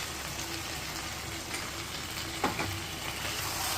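Chicken with turmeric and salt sizzles in a frying pan as it is stirred, a steady close frying hiss with a few scraping clinks of the spoon and no talking.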